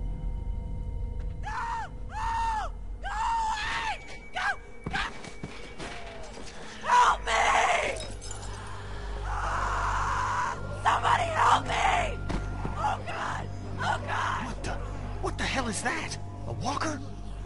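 Screaming heard in The Walking Dead video game: a distant, wavering scream repeats amid game ambience, with rumbling noises and voices talking in between.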